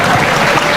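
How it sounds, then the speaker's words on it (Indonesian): Brief burst of audience applause at a campus event, loud and dense for under a second. "Tepuk tangan ya."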